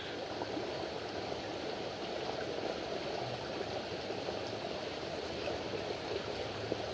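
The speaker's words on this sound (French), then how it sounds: "Écoutez la rivière." A river flowing with a constant, even rush of water, fairly soft and steady with no breaks or distinct splashes.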